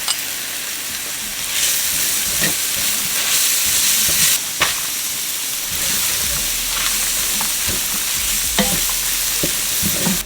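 Garlic, ginger and sliced onions sizzle steadily in a hot pan, with a utensil stirring and scraping at intervals; close, continuous frying hiss with no voices.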